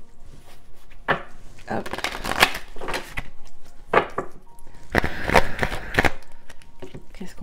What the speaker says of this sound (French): Je vais le brasser vite fait.